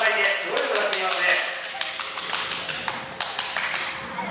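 Rapid soft slapping pats as a spotted seal slaps its fat belly with a front flipper, a quick series of taps and thumps, with a few high squeaks and background chatter.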